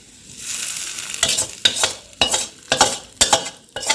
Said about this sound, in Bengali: তো ভেজে নেবো, রসুন, তেল, কালো জিরা ফোড়ন আমি এর মধ্যে ঢেলে দেবো